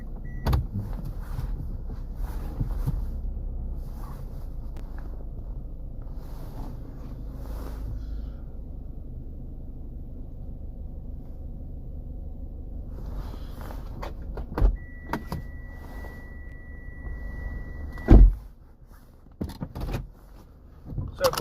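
Car reversing and parking, with a steady low engine rumble and faint mechanical whirring, a long sustained tone near the end, then a sharp thump and scattered small clicks as it settles.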